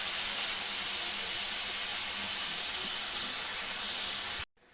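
Water poured onto pumpkin curry in a hot pan sets off a loud, steady sizzle and steam hiss that runs close and continuous for over four seconds, then stops abruptly.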